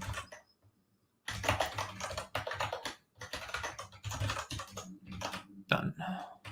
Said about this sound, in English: I'm getting tired of typing that.